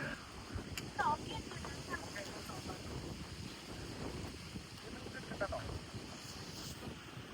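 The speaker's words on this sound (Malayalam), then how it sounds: "നല്ല കാറ്റുണ്ട്." Strong gusts buffet the microphone outdoors, a steady roaring rush with low rumbling thumps, while someone talks over it.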